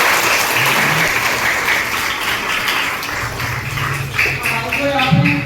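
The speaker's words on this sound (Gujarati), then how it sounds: "આ બધા બાળકો માટે ફરી એકવાર જોરદાર તાળીઓ છે." An audience gives a children's play a loud, sustained round of clapping at a school World Environment Day celebration, with voices rising over it toward the end.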